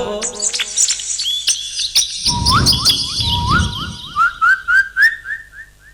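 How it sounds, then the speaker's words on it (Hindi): Asian koel calling: a series of rising, whistled two-note calls repeated rhythmically and fairly close, joined by other chirping birds and a burst of low rumbling noise midway. "सुंदर लगते कोयली की बोली, बड़ा प्यारा प्यारा लगते।"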